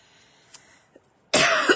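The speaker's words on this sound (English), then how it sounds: "I'll get a sip of water so I can quit coughing on you." A single loud, harsh cough bursts out close to the microphone after a near-silent moment with a couple of faint soft clicks.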